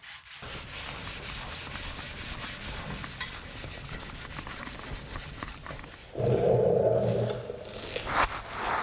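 Steady rubbing and scraping of a cloth wiped across a cast iron table saw top with denatured alcohol, a continuous close swishing texture that grows louder and fuller near the end.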